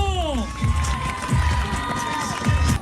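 A large crowd cheers and applauds at the Grand Raid finish in the Stade de la Redoute, Saint-Denis, Réunion, a steady loud roar with rhythmic chant-like swells, and a voice speaks over it.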